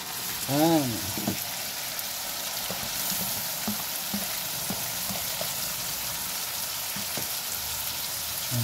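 Squid frying in a pan for adobong pusit, a soft, steady sizzle and bubbling of watery juices with a brief tonal chirp near the start and occasional light clinks, fairly quiet throughout.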